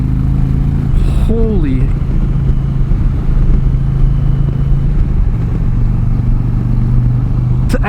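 An Indian Challenger motorcycle engine drones steadily and loudly while being ridden, rising briefly in pitch as it accelerates under throttle, with a short spoken exclamation and wind noise over the rumble.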